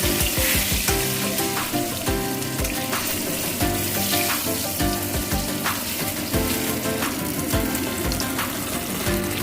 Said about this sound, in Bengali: পাশাপাশি আপনারা দেখতে পাচ্ছেন আমাদের ভাজা হচ্ছে, বেগুন ভাজা